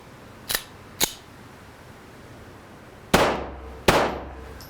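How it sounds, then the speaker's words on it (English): Four sharp gunshots crack against a Level IIIA bulletproof panel: two lighter reports close together, then two louder, ringing shots after a pause, each decaying quickly. "So I'm going to shoot it off at an angle"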